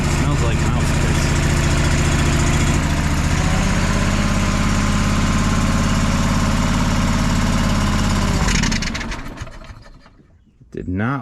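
A John Deere 425 lawn tractor engine runs loud and steady on choke, a thick idling drone with a voice speaking over it, then the engine sputters, drops off and dies near the end.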